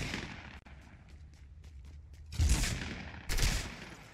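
Bursts of gunfire from players fighting in the Fortnite video game, two loud volleys standing out over a quieter stretch of scattered distant shots, with no talk.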